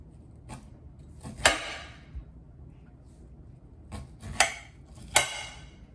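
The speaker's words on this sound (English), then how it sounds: "This is uncooked corn, but this knife cuts through it like butter." Knife blade slicing through an uncooked ear of corn in a kitchen, giving a few sharp, crisp cutting snaps spread over several seconds against quiet background, close and fairly faint.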